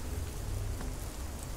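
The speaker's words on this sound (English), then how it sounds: "I got drenched in the rain." Steady rain pours in the woods around the Ironbark Lookout in the horror game Fears to Fathom, a dense, even hiss with a low rumble beneath, continuous and close.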